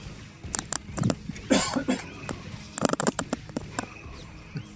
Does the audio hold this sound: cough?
yes